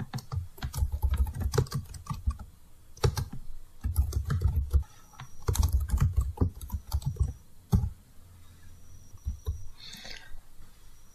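Rapid clusters of keystrokes on a computer keyboard while a document is typed in Microsoft Word 2019, close and clear, in bursts separated by short pauses, with no voices.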